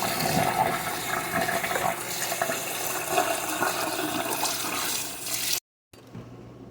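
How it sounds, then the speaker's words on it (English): Raw chicken rinsed under a running kitchen tap, a steady close rush of water splashing for about five seconds before cutting off abruptly. "so I always wash my meat"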